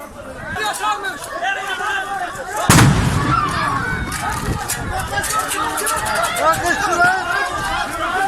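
A sudden loud explosion bursts from a burning house in İskilip, Turkey, amid a crowd's agitated shouting and chatter, followed by continued commotion and crackling fire noise.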